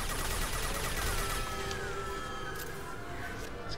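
Sustained gunfire in the video game Mass Effect 2, a dense, continuous rattle of shots and combat noise filling the whole stretch without pause.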